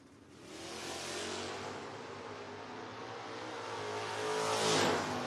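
A 1970 Chevelle and a 1968 Barracuda launch together at a footbrake drag race. Their engines roar loud and rise in pitch as they pull away, swelling again toward the end, with no talk over them.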